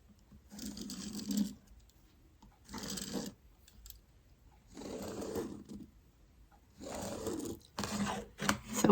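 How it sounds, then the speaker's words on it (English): A sewing machine stitches a rag quilt in four or five separate bursts, each a second or so of close mechanical whirring, with quiet pauses between runs. "let's go to the sewing machine"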